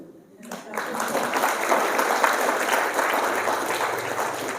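An audience at a talk in Bokaro, Jharkhand breaks into applause after a brief quiet moment, the clapping swelling quickly and staying steady and sustained to the end.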